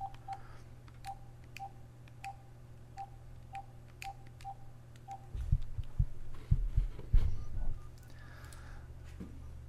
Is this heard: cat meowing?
no